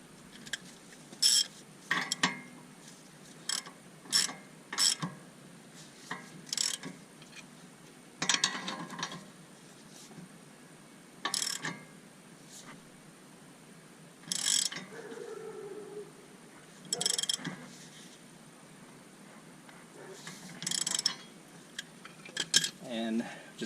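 Lug nut on a Mazda 3 wheel stud is tightened with repeated short bursts of ratcheting clicks separated by pauses, close and moderately loud over faint background.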